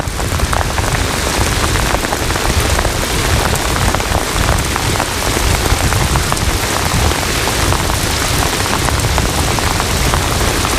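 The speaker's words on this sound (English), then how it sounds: "My app said light rain, not moderate rain." Heavy rain pours down outdoors by a dock during a fishing trip, a dense, steady hiss of drops striking surfaces that stays loud and unbroken throughout, with no voices.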